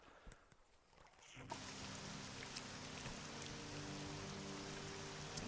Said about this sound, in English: It's quite hilarious that it's raining in the game.